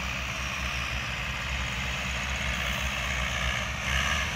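Tractors on a farm track, including a Massey Ferguson 385 dragging a suhaga plank leveller with a model 804 behind it. A steady, droning diesel rumble rolls past with no pauses, swelling slightly near the end.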